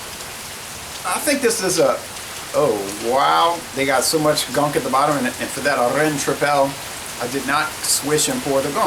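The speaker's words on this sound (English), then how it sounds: "We're trying to talk over the rain." Rain falling steadily outdoors in Louisiana, a constant hiss like sizzling under close, loud conversation that carries on throughout.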